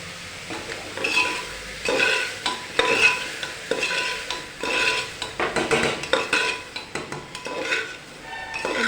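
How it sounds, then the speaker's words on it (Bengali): Lentils and bottle gourd being stirred in a pot with salt, turmeric and sugar, a steady run of spoon scrapes and clinks over a soft sizzle, close and continuous. "এবার ডাল আর লাউয়ের সাথে লবণ, হলুদ, মিষ্টিটা ভালোভাবে মিশিয়ে নেব"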